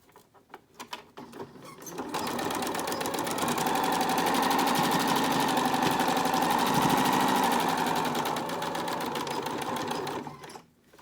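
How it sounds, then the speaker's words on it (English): A sewing machine top stitches along the upper and lower edges of a fabric face mask, running steadily and loud for about eight seconds after a few quiet handling clicks, then stopping. "The next step is to top stitch the top and bottom of your mask."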